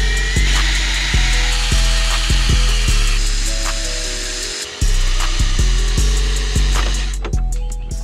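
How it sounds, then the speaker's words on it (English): A power drill bores holes in plastic trim on a 2020 Camaro ZL1 1LE, a series of close, sharp bursts with grinding chatter, plus one longer sustained run. "So these are the holes we just drilled"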